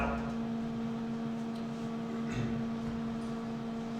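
Water pump on an Alltec Evolution machine running steadily as it primes, a constant mechanical hum with a firm electrical drone, alone and unchanging throughout.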